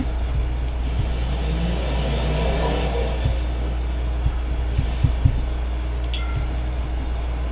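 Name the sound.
car drag racing in video game BeamNG.drive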